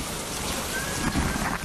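Steady rain pours down continuously, close and fairly loud, with a low rumbling undertone beneath the hiss and no voices.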